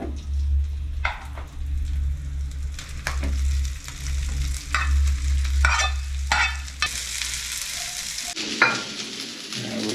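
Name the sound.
stir-frying fried rice with garlic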